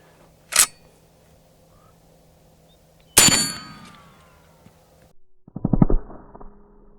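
A rifle firing a 440 grain Buffalo Bore round at a melon outdoors, with a sharp crack, then a louder blast with a long ringing decay, and later a short cluster of rattling clatter, all separated by quiet gaps.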